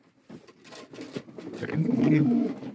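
Racing pigeons in a breeder's loft give soft, rolling coos that rise toward the end, close by, with someone talking over them.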